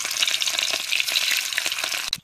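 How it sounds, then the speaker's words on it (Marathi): Paneer pieces dropped into hot oil give a bright, loud, hissing sizzle that holds steady for about two seconds before cutting off abruptly; close by, with no voices. "तेल चांगलं कडलंय ह्याच्यात आता पनीर तळून घेतो."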